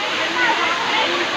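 Daranak Falls in Tanay, Rizal, a waterfall heard as a loud, steady, broad rushing roar close by, with a voice talking over it.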